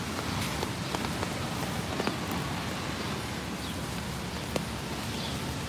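Steady rain from Tropical Storm Fay falls on a New York City street, a constant close hiss of drops on hard surfaces with scattered sharper splashes and no talk.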